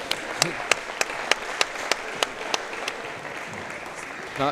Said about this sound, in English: Can we get these guys a round of applause?